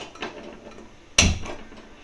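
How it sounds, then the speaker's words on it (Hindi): A pressure cooker set down on a lit gas stove while cooking mutton korma pulao, giving a single sharp metallic clank partway through, with faint kitchen rustle before and after. "ये मैंने कुकर चढ़ाया"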